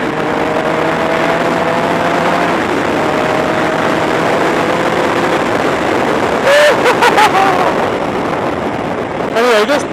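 A 2007 Triumph Tiger 1050 motorcycle rides over a bumpy, pothole-filled road, its engine a loud continuous drone mixed with heavy wind rush, broken by a few sharp thumps and a voice talking near the end.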